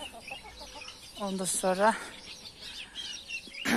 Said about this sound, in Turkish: şu tavuğum da kurklamak üzere kurk kurk kurk kurk deyip duruyor